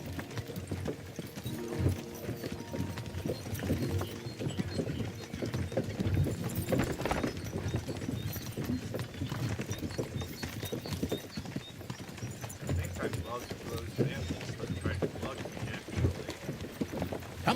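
Horse hooves clip-clop in a steady, moderately loud rhythm throughout, with a voice speaking at times over the hoofbeats.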